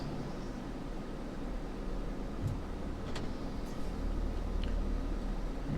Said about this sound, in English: So you hear this white noise in the background. That's my air conditioner.